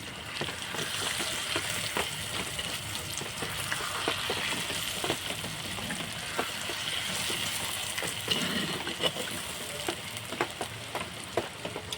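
Rui fish curry with potatoes, its oil separated, crackles softly in a pan while a spoon stirs it, scraping in irregular strokes over a low, continuous sizzle, with no talking.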